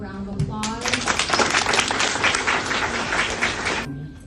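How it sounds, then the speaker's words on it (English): Audience applause for a panel of speakers, a dense burst of clapping starting abruptly after brief talk, sustained for about three seconds and then stopping sharply. "Giving them a round of applause."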